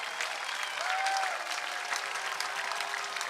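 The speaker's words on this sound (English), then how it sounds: "But the crowd is getting into it for Loprich now." Baseball crowd at a live Bowie Baysox game applauding steadily, a dense wash of clapping that holds for a few seconds at moderate level with no clear talk over it.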